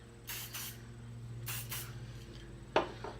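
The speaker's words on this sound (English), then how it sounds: "So now I'm just going to spray." Hair spray sprays on while styling messy beach waves: two paired bursts of broad hiss, then a sharper click and a short final puff, close and moderately loud over a low steady hum.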